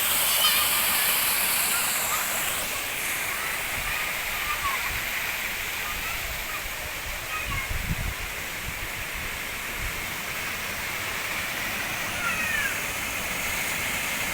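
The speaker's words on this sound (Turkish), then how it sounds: "Burası şelale bölümü." Karapınar waterfall on the Gediz river roars as a steady, broad rushing wash of falling water, close and continuous throughout, with faint voices underneath.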